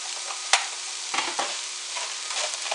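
Spaghetti sauce with cinnamon and ground celery seed being stirred in a hot pan: a dense, continuous sizzle with a few brief scraping strokes of the spoon, close up.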